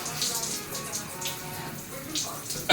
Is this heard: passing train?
no